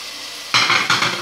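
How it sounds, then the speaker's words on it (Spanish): Vegetables for oxtail stew, garlic, bay leaf and carrot, are stirred in a hot frying pan, with a sudden loud sizzle and two scraping stirs bursting out after a quiet hiss. "Lo mareamos todo bien"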